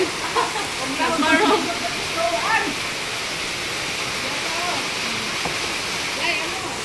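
Strong rushing water pours in a steady, loud broadband roar, with people's voices briefly heard over it.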